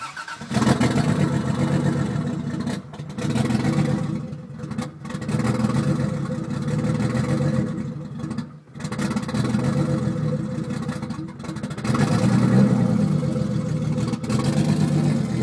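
Toyota Supra MK3 with a 7M-GTE turbo engine idling unevenly, a steady low rumble that surges and dips with a few brief drops, close and continuous throughout.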